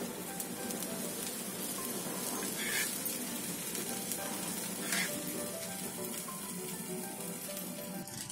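Tawa pulao, Mumbai street-food style, sizzles and fries steadily on a hot griddle while being stirred, a dense continuous crackle with a couple of louder scraping swells, no voices.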